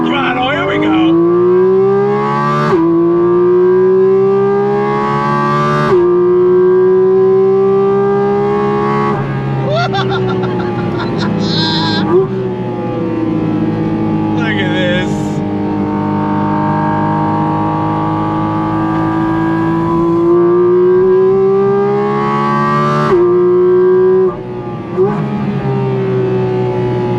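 A 2023 Porsche 718 Cayman GT4 RS engine under throttle sings loud and close from the cabin, its note rising steadily through the revs, then dropping at each upshift and climbing again in a repeated pattern across several gears.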